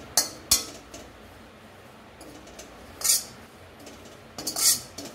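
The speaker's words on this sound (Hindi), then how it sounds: "इसको आप लगातार चलाते रहें, ये बहुत जल्दी लगता है, तो इसको आप लगातार चलाते हुए भूनें।" Coconut is roasted in a pan while being stirred constantly, with a few sharp metallic scrapes and clinks of a spoon against the pan spaced across a quiet background.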